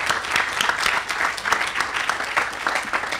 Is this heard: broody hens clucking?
no